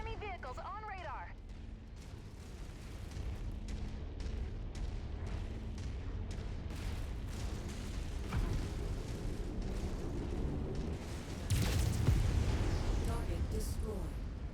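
Repeated booming explosions from Mechwarrior 5 Mercenaries as enemy vehicles are destroyed, dense rumbling blasts rolling throughout with a louder burst near the end, game voice callouts over the top.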